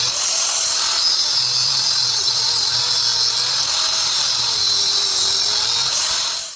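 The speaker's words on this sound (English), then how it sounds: "We have used a thicker grinding wheel to get the bulk of the little teeth out" A grinding wheel cuts into a steel Harbor Freight prybar being shaped into a knife, giving a loud, steady, high-pitched whine that holds throughout without a break.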